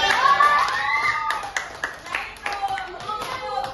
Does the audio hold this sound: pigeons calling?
no